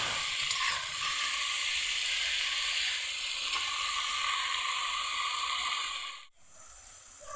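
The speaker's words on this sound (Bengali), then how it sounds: "হলুদের গুঁড়ো লবণ হলুদ দিয়ে বেগুনটাকে একটু ভালোভাবে ভেজে নেব" Eggplant frying in a pan with turmeric and salt gives a steady, close sizzle that holds evenly, then cuts off abruptly for a moment near the end before starting again.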